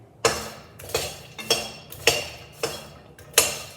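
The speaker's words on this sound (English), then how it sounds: "Make sure you mix it well so that all your makhana gets the masalas in" Makhana being tossed with masala in a bowl, six sharp clinking strikes at a steady rhythm, loud and close with short ringing decays.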